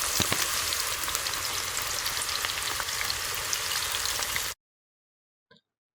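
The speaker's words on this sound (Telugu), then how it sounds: "ఇలా గోల్డెన్ కలర్ వచ్చేలాగా వేయించుకోవాలి" Onions fry in plenty of oil until golden, giving a close, steady crackling sizzle that cuts off abruptly, followed by near silence and one faint tap.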